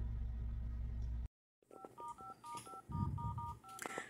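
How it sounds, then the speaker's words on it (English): Telephone keypad buttons are pressed in a rapid, irregular run of short dual-tone beeps by a customer service rep, heard close over a phone line after a brief silent gap, with faint background noise. "this is a customer service rep constantly mashing buttons"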